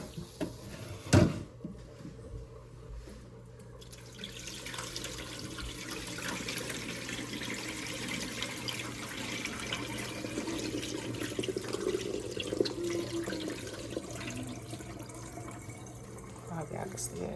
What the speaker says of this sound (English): and then I just drain the water off